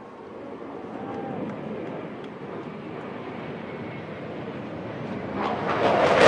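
Blue Angels jets flying the Delta breakout at an outdoor airshow, a distant broad jet roar that holds steady and then swells louder toward the end.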